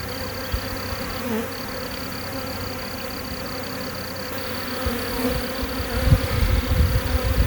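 A honeybee swarm hums with a dense, continuous buzz close by, steady and loud, swelling slightly toward the end.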